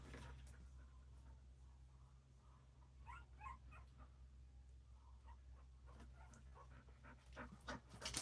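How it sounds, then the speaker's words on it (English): A puppy pants close by in quick, rhythmic breaths that stay soft and steady, with a few small whimpers and louder breaths toward the end and no talking. "The puppy dog done showed up."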